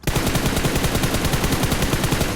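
Rapid automatic gunfire in the mobile battle royale game PUBG Mobile, a loud, steady burst of evenly spaced shots running without pause, with no voices over it.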